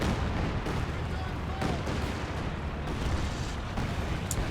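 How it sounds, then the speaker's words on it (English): A Land Mattress rocket artillery barrage in Company of Heroes, with repeated thumping launches and explosions rolling on for several seconds under continuous battle noise and a voice talking over it. "Yeah, doing a nice barrage there."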